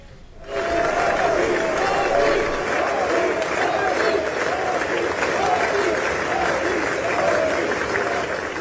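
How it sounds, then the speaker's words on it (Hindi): Thunderous applause fills the US Congress as Prime Minister Modi arrives, a dense sustained clapping from a large crowd that starts after a brief quiet moment and carries on steadily throughout. "तालियों की गड़गड़ाहट, भारत माता की जय घोष के साथ मोदी मोदी के नारों की गूंज के बीच जब प्रधानमंत्री नरेंद्र मोदी अमेरिकी कांग्रेस को संबोधन करने पहुंचे"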